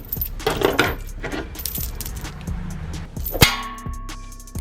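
Short metal bolts from a 20-ton Harbor Freight press kit picked up by hand, clinking and jingling against each other in quick bright clusters, with one louder clank near the end, close and alone.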